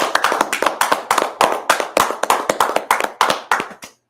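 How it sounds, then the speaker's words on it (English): A small class claps together in loud, close, evenly spaced beats, about a dozen sharp hand-claps in a steady rhythm that stops abruptly near the end, with no talking. "Let's clap it up."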